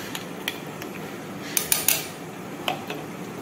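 Spoon and dishes clinking in a kitchen while biryani is cooked, a few light scattered taps followed by a quick cluster of louder metallic clinks and one more sharp clink near the end, with no talk.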